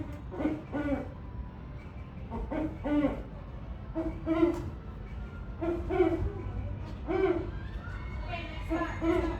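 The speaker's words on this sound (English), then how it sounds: "There's the owl up there." Repeated owl hoots, fairly close and clear, sounding in short bursts every second or so over a soft outdoor background on Tom Sawyer Island.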